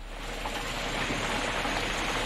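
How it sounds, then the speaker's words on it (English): Steady rain falling, a dense, even hiss of drops on surfaces that holds constant and fairly loud throughout, with no voices. "Oh gosh, it's begun to rain."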